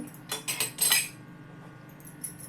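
A metal plate for making chakli is picked up and set down, with a quick run of bright clinks and clatters in the first second, then near quiet.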